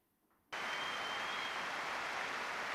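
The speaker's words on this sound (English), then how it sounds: "There was a minute of applause for Pele at Anfield before this evening's match." A stadium crowd at Anfield, Liverpool's football ground, breaks into a minute of applause for Pelé before a match, a dense wash of clapping that bursts in after a near-silent moment and holds loud and steady to the end.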